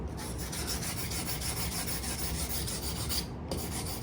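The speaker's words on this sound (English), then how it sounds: "this is a coarse file, and what I'm going to do now is I'm just going to hold this here and I'm going to file" A coarse hand file worked across steel in quick, even strokes, giving a continuous rasping scrape at close range with a brief pause near the end.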